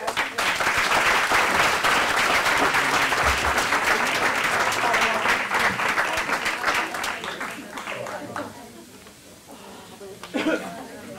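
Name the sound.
audience clapping for presenters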